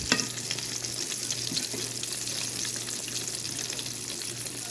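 Fish frying in a pan, a steady close crackle and sizzle of hot oil with dense popping spatters running continuously, alone and without talk.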